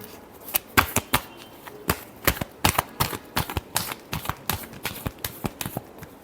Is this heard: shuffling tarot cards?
yes